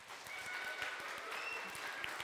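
Audience of preschool children clapping for a clarinet player at a chamber concert, a steady dense patter of applause throughout with a few faint voices mixed in.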